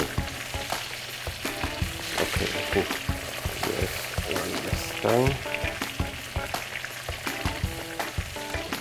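Schnitzel fries in oil in a pan, giving a steady crackling sizzle with scattered pops and clatter of utensils throughout, while people talk briefly over the cooking noise.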